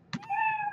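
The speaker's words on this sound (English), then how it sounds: "it will play a meow sound" A single short cartoonish cat meow from Scratch plays, quiet and brief, rising into a steady tonal cry.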